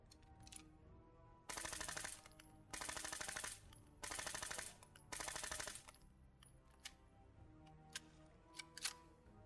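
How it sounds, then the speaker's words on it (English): Four sustained bursts of rapid automatic fire from a 10mm submachine gun in a modded Fallout 4, each lasting about a second, separated by short pauses and followed by scattered mechanical clicks and handling sounds. "This SMG looks good, feels authentic, and does a great job reintroducing the 10mm SMG back into the Fallout universe"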